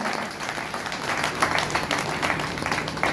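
Audience clapping for Yogi Adityanath at a traders' welfare day gathering, moderately loud and steady, a dense wash of hand claps running the whole brief stretch.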